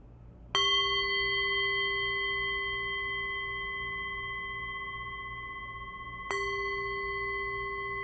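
A meditation bell is struck twice, about six seconds apart, each strike a clear, bright tone that rings out with a long, slowly fading sustain in a quiet room.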